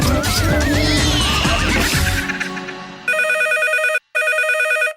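An old-style telephone bell rings loudly in two long electronic trills separated by a short gap, following a cartoonish horse whinny and music in a radio comedy sketch.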